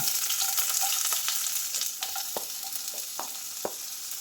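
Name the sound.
sliced onion frying in coconut oil in a pan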